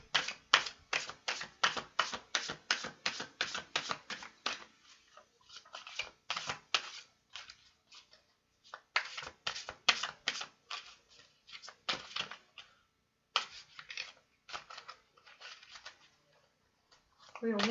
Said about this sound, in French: mes cartes, elles sont bien battues